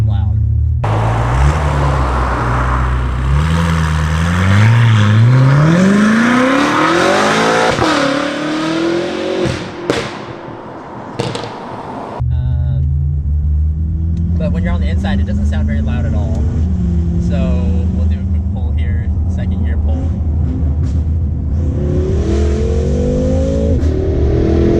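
BMW F10 M5 engine revving and accelerating, loud and close, rising in pitch through the gears, then a brief lull before another long climbing pull; a person talks faintly underneath.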